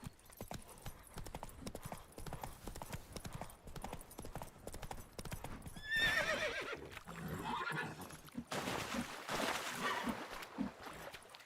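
A horse in The Witcher 3 trots with rapid, rhythmic hoof clip-clops, joined midway by a loud whinnying neigh and then further snorting and movement, all fairly close.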